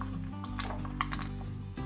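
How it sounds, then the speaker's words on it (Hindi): Bitter gourd (karela) pieces frying in a pan over a medium flame, a steady low sizzle with a few soft clinks of a spoon stirring through them. "तो इसे हम मीडियम फ्लेम पर फ्राई करेंगे"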